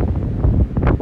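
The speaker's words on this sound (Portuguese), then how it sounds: "Eu estou a ir para o alto, mas é que está este vento." Strong wind on a mountain buffets the microphone in loud, continuous gusty rumbles, swelling and easing with no speech.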